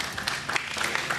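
A studio audience at a Ramadan iftar television transmission breaks into a short, lively burst of clapping.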